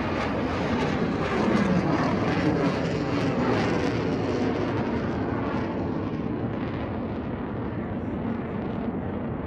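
An F/A-18 Hornet fighter jet roars past during an air show demonstration, a loud, continuous broadband engine rumble that stays close and sustained throughout.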